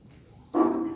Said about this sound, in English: Oh, sorry, my dogs.